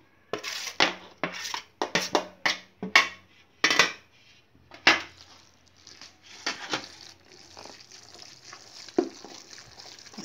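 Mutton harees being mashed and stirred in a metal pot, with a run of clattering knocks and scrapes in quick bursts early on that fade into softer, irregular stirring.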